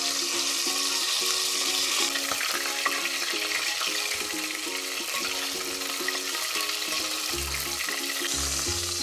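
Lamb chops simmering in a pot as a marinade is added for reduction, giving a steady close sizzle and bubbling with light clinks of utensils throughout.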